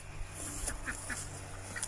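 Cayuga duck, a large green-sheened drake, gives several short quacks amid farmyard poultry noise, moderately close with steady background hum.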